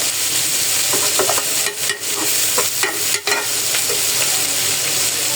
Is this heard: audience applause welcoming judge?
no